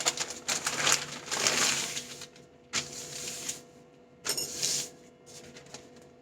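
Newspaper is folded and spread out on a kitchen surface, giving loud crinkling, rustling bursts in three separate handlings, close and crisp.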